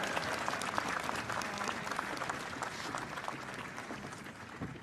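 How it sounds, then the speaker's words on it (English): Audience applause at the 2019 gubernatorial inauguration of Larry Hogan and Boyd Rutherford, honoring the Naval Academy Glee Club after the Star-Spangled Banner; a steady, dense wash of many hands clapping that continues evenly throughout. "let's give a round of applause to the Naval Academy Glee Club"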